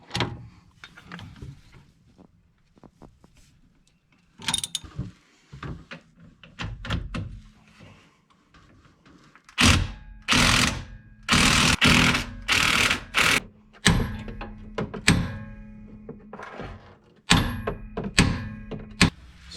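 14 and 15 mm wrenches cracking loose rear strut bolts on a car, heard as scattered close metallic clicks and clanks that build into dense bursts of ratcheting, with no talking.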